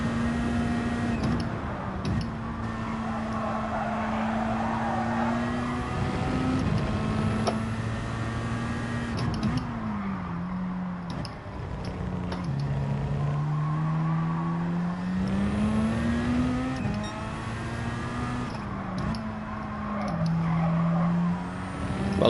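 A race car engine in Gran Turismo 7 is revved hard and continuously, its pitch climbing and dropping with gear changes and throttle lifts, loud and close throughout with faint tyre noise.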